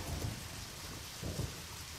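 Heavy rain pours steadily in the video game Deadly Premonition, with two deep rumbles of thunder rolling under the downpour, each lasting about a quarter second.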